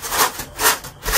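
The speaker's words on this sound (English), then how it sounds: "you're going to use a razor knife, and you're going to just score a nice straight line using a straight edge to cut" A razor knife drawn along a straight edge scores foam insulation in rapid back-and-forth rasping strokes, three close, loud swishes in quick succession.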